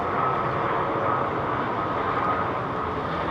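A long Chinese airliner in SkyTeam livery at London Heathrow Airport gives a steady, continuous broad jet roar from some distance, even in loudness throughout, with no talk.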